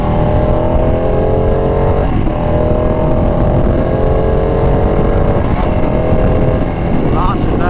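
A 2019 Ducati 959 motorcycle cruising on a highway, its engine a loud, close drone that rises in pitch through gear pulls, mixed with heavy wind rush.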